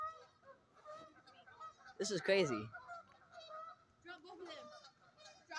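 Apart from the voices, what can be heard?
geese honking during a fight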